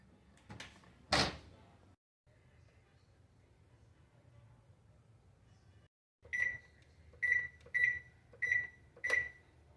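An oven door thumps shut with a couple of knocks on a cast iron Dutch oven with its lid on inside, followed after a quiet stretch by a run of five evenly spaced electronic oven beeps.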